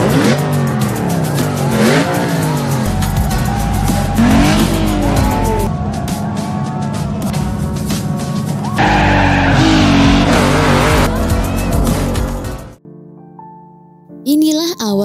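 Cars racing through a street, engines revving loudly and tires squealing in repeated skids, dense and close throughout before cutting to a brief quieter tonal passage near the end.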